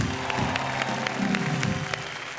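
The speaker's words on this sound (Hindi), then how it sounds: "भाई जोरदार तालियां शिखा सिंह के लिए" Applause from a chat-show audience for Shikha Singh, a steady wash of clapping with a few sharper individual claps standing out, and faint music or voices underneath.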